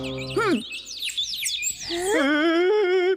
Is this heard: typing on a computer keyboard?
no